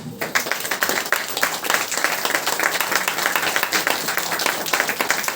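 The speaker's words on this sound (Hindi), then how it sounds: "अपने आप के लिए एक बार तालियां हो जाए" A church congregation at a Sunday prayer service claps together in a dense, steady burst that carries loud and continuous for several seconds, without pause.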